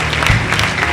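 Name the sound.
congregation applauding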